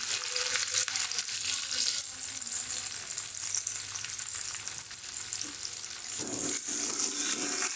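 Chillies and onion fry in a pan for Marathi methi bhaji, a steady close sizzle with broadband hiss throughout, occasional stirring scrapes, and no talking.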